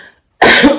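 A single sharp cough bursts out after a brief silence, loud and close, with a rough throaty tail.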